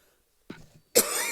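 A single short cough in a quiet room during a football podcast recording, followed by a sustained burst of louder, rougher noise.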